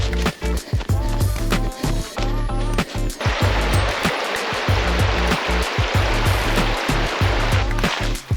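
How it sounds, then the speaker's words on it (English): A river rushes loudly and continuously beside a rough backcountry route in the White Mountains while a hiker moves along it, with broad, close water noise and repeated crunching footsteps. "Hello, river."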